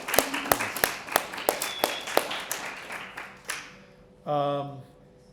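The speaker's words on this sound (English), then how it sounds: "we can clap, let's clap" A small lecture-class audience claps in a sparse, loose rhythm of distinct individual claps that taper off, followed by a brief voice at the end.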